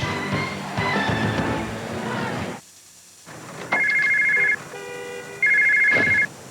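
A cell phone rings unanswered, with two clear electronic ring bursts over a busy background murmur.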